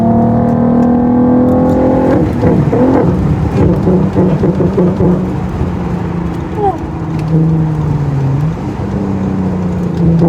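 A naturally aspirated R32 engine, from a VW Golf 5 R32 or an Audi TT R32, runs with a deep, steady tone and shifts pitch slightly later on, loud and close with some background noise.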